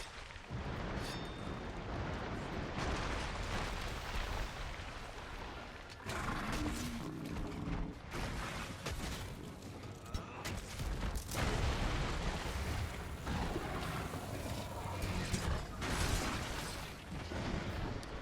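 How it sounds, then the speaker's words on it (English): Wyvern Fire gunlance blasts and combat in Monster Hunter World, a series of loud booming explosions and impacts with heavy rumble, repeated across the stretch amid game effects. "every time I feel like I have an opportunity to get a Wyvern Fire off, I like to get one off"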